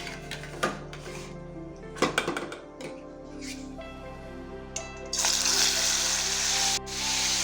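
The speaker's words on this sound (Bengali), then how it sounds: "কড়াতে তেল দিয়ে দিয়েছি, আর এই যে মাংস নুন হলুদ মাখিয়ে রেখেছিলাম, এখন এইগুলোকে একটু ভেজে নেবো" Salt-and-turmeric-coated chicken pieces go into hot oil in a wok: a few metal clanks and scrapes, then a sudden steady sizzle close by that keeps going to the end.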